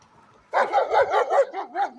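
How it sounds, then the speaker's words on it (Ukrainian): Dogs bark close by along a rural road, giving a quick run of about six or seven yelping barks after a short quiet moment, with no talking. "Дивіться, тут собаки, мать моя."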